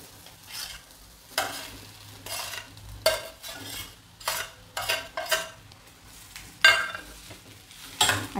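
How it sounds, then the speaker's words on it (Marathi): Spoon scraping and clinking through vada pav potato filling in a pan, a series of bursts of stirring with metal scrapes, over a soft background sizzle and no voices. "आता ही भाजी आपण मिक्स करूया त्याच्यामध्ये।"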